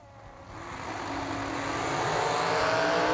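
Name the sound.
drag racing dragsters on the racetrack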